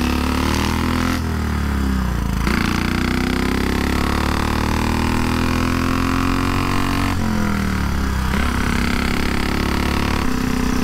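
A 1934 Velocette KTT motorcycle engine runs steadily and loudly throughout, with a couple of brief shifts in pitch as the rider changes speed.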